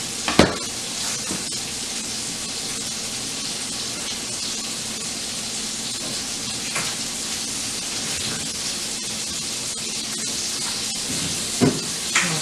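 Ribeye steak sizzles in a skillet with a loud, constant, dense frying hiss, broken by a few faint knocks, with no voices over it.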